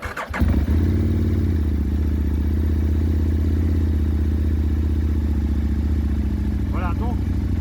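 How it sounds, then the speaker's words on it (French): A 2004 Aprilia RSV 1000 motorcycle fires up with a sharp starter crank, then settles into a loud, steady, close-up idle with a throbbing low rumble that continues throughout. "Donc là, je vais démarrer la moto."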